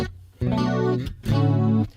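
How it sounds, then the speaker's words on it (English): A guitar through the McRocklin Suite Ableton preset rings out as two bright, sparkly strummed chords with chorus and compression, a wide shimmering wall of acoustic-style tone with a short gap between them. "So bang, it's like instant massive wall of acoustic, really very sparkly acoustic type of sound with some chorus and compression."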